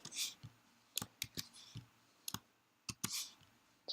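Several sharp computer mouse clicks, spaced irregularly and close by, some in quick pairs, while entering values into a Scratch programming array, with no talking.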